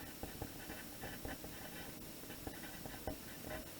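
Pen writing a number on paper, a run of faint scratchy strokes and light taps close by, over steady background hiss.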